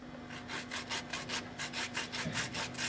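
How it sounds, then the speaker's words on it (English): A raw potato is grated by hand for halušky, a rhythmic series of about a dozen rasping strokes, close and fairly quiet with no voices. "And you just take it like this and you grate."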